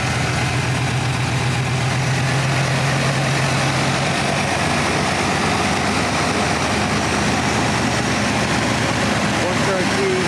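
A 1982 Chevrolet Corvette C3, all original, idles steadily after starting, a continuous low engine rumble close by with a brief low hum near the start; a person talks over it.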